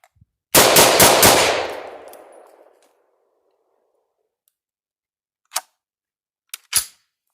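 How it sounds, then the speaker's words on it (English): Semi-automatic civilian M14 (M1A) rifle firing four rounds in rapid succession outdoors, a loud close burst with a ringing decay, followed by a few faint clicks and handling clunks. "I'm just going to unload it."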